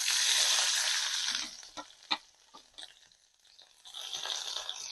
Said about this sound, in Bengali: তেলের মধ্যে নেড়ে চেড়ে ভেজে নেব রসুনগুলোকে